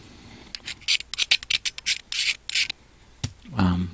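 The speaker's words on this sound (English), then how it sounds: "I try to scrape off into the box as much of the residue paint that I can" Short rasping scrapes of residue paint being worked off a 1/64 scale diecast car over a box, a quick run of close, rhythmic strokes with pauses between, then a brief louder rub at the end.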